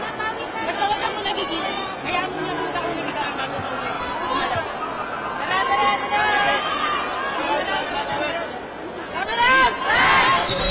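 A volleyball arena crowd at a quarterfinal match roars steadily and loudly throughout, with a sustained wash of cheering and chatter that swells near the end, while a commentator speaks over it.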